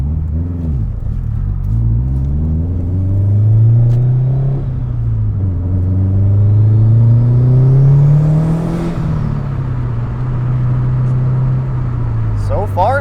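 A car drives along with a loud engine drone that rises and falls as it accelerates and shifts, heard from inside the cabin, with a person talking over it.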